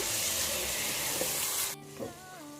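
Rice and lentils fry in a pan for Mysore-style bisi bele bath, giving a loud, steady broadband sizzle that cuts off abruptly near the end, leaving a quieter tail with a brief clatter.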